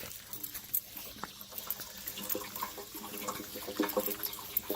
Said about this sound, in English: So there's all of the water running right here